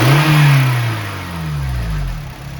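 An 8th-gen Honda Civic Si engine, noted as needing a valve adjustment, is revved up sharply and then falls back. Rising and falling engine pitch sweeps come from close range with no talk.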